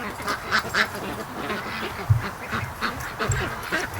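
Ducks quack near a lakeside house, a few short, scattered calls spaced irregularly over low outdoor background noise, fairly faint and with no talking.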